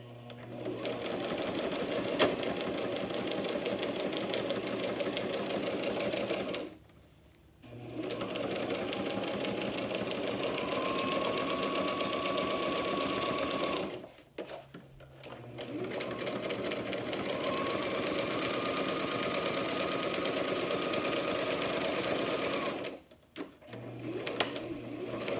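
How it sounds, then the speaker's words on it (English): A sewing machine runs in long steady bursts while back stitching a homemade face mask, its motor whirring and needle chattering, broken by two brief pauses. "I'm going to back stitch just a little."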